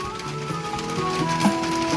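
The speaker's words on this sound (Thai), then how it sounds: "หลบฝนครับฝนตก" Rain pattering on a hut roof in rural Thailand during a fishing trip, a dense continuous patter with scattered louder drops and no talk.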